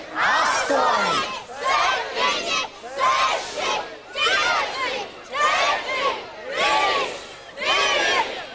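A large crowd at a song contest vote in Ventspils, Latvia, roars and shouts in repeated surging waves, about seven loud bursts in steady rhythm, close and full.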